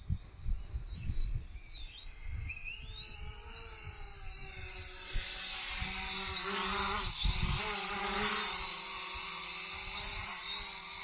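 Eachine E520S camera drone flying an orbit, a high whining buzz of small propellers that rises and shifts in pitch, growing steadier and louder after the first few seconds, heard alone without talk.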